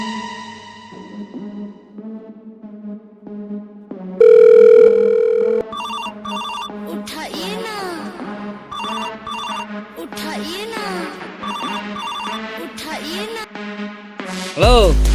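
A telephone ringtone plays a melodic tune for most of the clip, loud and repeating while placing a call, with a short steady tone near the start and a click at the end.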